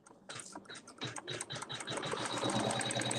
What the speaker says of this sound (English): now we can just begin sewing the quilting.